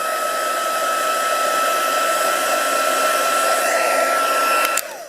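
A heat embossing tool blows hot air for drying in a steady, even whir like a small hair dryer, running continuously close by before switching off at the end.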